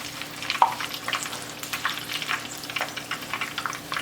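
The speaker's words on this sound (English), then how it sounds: "and then let this fry until golden brown" Merveille pastry dough frying in hot oil gives a steady, close sizzle with crackling pops and soft bubbling, heard alone without voices.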